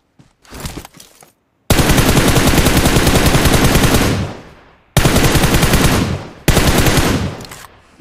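Loud automatic gunfire from the PUBG battle-royale game: a few sparse shots, then long sustained bursts of rapid fire that cut off and restart, close and dominating, with no talk over them.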